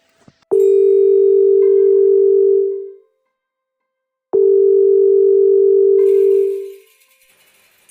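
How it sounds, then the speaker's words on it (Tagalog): A telephone sounds two long, loud, steady electronic tones separated by a brief pause, with no one speaking. "sagutin mo ang telepono"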